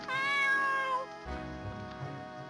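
A cat meows in the video game Dego, a long tonal drawn-out call up front followed by quieter mewing against game music, with no talk.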